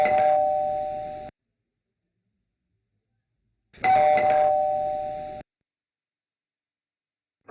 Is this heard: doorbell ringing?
yes